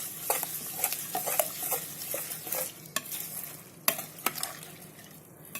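White flattened rice (avil) being stirred into milk in a pot with a spoon, soft close scraping and swishing, several brief clinks against the vessel, quiet and alone.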